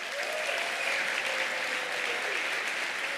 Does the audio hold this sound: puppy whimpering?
no